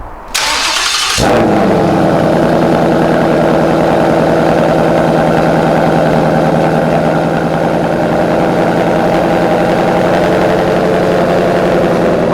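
A car equipped with a Borla ATAK active exhaust cold-starts after a brief cranking burst, catching with a loud roar that settles into a steady, rumbling high idle held close and alone for the remaining seconds.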